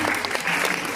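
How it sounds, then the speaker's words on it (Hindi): An audience at a school event claps for young children, a dense burst of loud, steady applause filling the room from start to end. "एक बार नन्हे मुन्ने बच्चों के लिए जोरदार तालियां बजाइए।"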